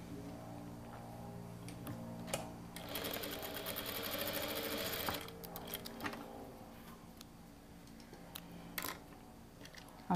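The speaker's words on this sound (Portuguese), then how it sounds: "E rebate uma costura." A sewing machine topstitches a folded seam on fabric for a baby hygiene kit, its steady rapid needle chatter running close and continuous, louder in the middle stretch, with small ticks and handling clicks between bursts.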